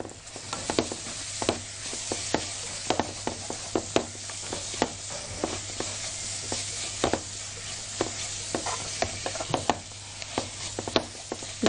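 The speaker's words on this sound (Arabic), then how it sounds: "هنشوح البصل كويس بعد ما حطينا له البهارات" Onion and garlic sautéing with spices in a pan: a steady sizzle broken by frequent sharp scrapes and knocks of a utensil stirring, continuous and close, with no voices.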